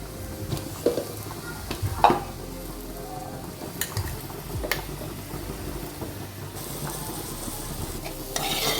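Ground coconut paste going into hot oil with taro leaf aviyal in a pan, a steady sizzle and frying hiss broken by a few stirring scrapes and utensil clinks, close up with no voices.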